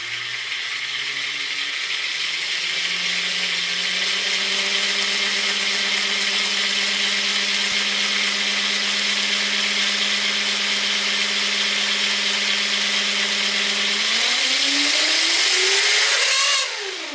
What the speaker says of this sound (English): It's running super smooth thanks to those axial bearings, but it's loud actually.